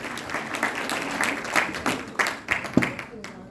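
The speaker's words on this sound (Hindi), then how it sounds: "जोरदार तालियों से स्वागत करें।" An audience applauds to welcome the chief guest, a local MLA, at a ceremony: steady, moderately close clapping from a crowd with a few louder individual claps, continuing for several seconds without a break.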